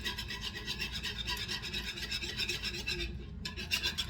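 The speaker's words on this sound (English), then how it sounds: "We're going to beat this until this is well mixed." A whisk beating batter for a blueberry kuchen in a bowl, a continuous rapid scraping and swishing that is close and fairly faint, running steadily with a brief gap near the end.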